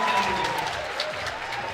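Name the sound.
crowd cheering at a bouldering competition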